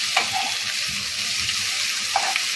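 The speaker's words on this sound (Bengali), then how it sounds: "দিয়ে এবার এটাকে লো ফ্লেমে নেড়ে চেড়ে আমি ক্যারামেলাইজ করবো।" Sugar caramelizing in a pan over a low flame while being stirred steadily, with a soft continuous sizzle and occasional faint scraping clinks close by.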